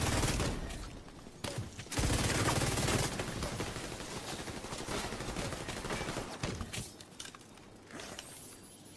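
The Division 2 firefight with dense, sustained automatic gunfire, rapid overlapping shots rattling steadily for several seconds, loud and close, with only brief pauses.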